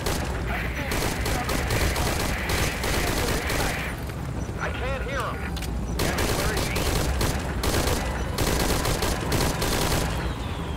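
Gunfire in the Metal Gear Solid V: Ground Zeroes video game, dense bursts of automatic fire and booms keeping up a loud, continuous barrage with a voice speaking beneath it.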